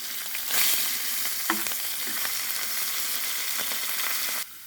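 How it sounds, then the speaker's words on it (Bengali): Fish pieces fry in a pan with a dense, steady sizzle up close, a swell of hissing early on and a few soft knocks of a utensil against the pan. "দেখুন, মাছগুলো আমি ভেজে নিচ্ছি।"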